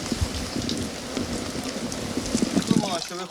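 Heavy rain downpour pattering steadily on surfaces with irregular drops and splashes, loud and close, with a voice speaking over it toward the end.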